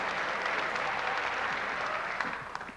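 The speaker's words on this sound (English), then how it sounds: "Thank you for the jaded applause." Audience applause at a 1988 live stand-up comedy show in Washington, a dense steady wash of clapping from a sizable crowd that tapers off toward the end.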